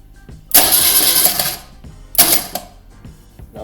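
1980 BMW R65 motorcycle engine being started after a piston and barrel job: two loud cranking bursts, each about a second long, separated by a short pause, with mechanical clatter in between.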